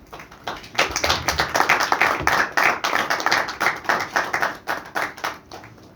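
An audience applauds at an India Cellular & Electronics Association industry event: a crowd's clapping swells after a second, holds as a dense, steady patter, then thins out toward the end.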